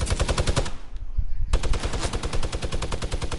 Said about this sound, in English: I'm minigunning him!